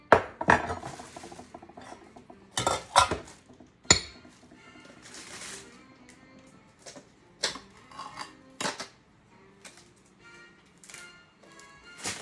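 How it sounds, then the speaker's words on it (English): A spoon stirs split peas coming to a boil in a pot for split pea soup, giving sharp metallic clinks and scrapes against the pot in irregular bursts, with quieter bubbling and handling between them. "My split peas are starting to come to a boil. You give them a little stir."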